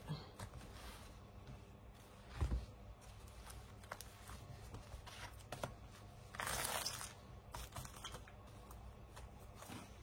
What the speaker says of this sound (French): j'ai assez mélangé et je prends 6 cartes